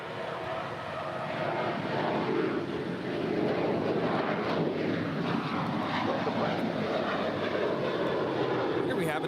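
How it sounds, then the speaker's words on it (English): An American Airlines Boeing 737-800 departs LAX with a broad, rumbling jet roar that builds and holds steady, mixed with wind buffeting, while a voice speaks over it. "Here we have an American Airlines Boeing 737-800 departing to Puerto Vallarta, flight 1880."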